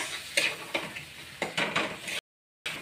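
Spice paste frying in a pan for pepper kofta curry, with a soft sizzle broken by sharp rhythmic scrapes of a spoon stirring, close by, then a brief dead gap and more stirring.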